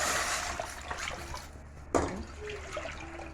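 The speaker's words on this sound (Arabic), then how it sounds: "احط حبه ميه،" Water splashes and trickles into a cooking pot on the stove at close range, a soft running pour with a brief bump of the vessel partway through.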